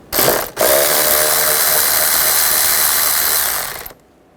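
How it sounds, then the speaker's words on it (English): A ratchet with a 10mm socket loosens a worm clamp on a hose of a 2004-2009 Toyota Prius, giving a loud, close, steady whirring rattle that runs for about three seconds after a brief start and then stops. "We're going to use a 10mm socket, loosen up this worm clamp."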